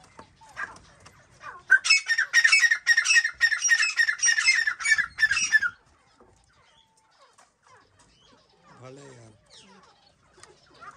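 A partridge and a pigeon fight, giving a burst of rapid, loud, harsh squawks for several seconds that then stops abruptly, followed by quieter faint sounds and a brief voice.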